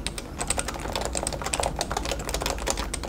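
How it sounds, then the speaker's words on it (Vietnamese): Typing on a Realforce Topre office keyboard: a steady, rapid stream of muffled, rounded keystrokes, recorded close up with no talking. "ở đây mình sẽ gõ cho anh em nghe cái tiếng"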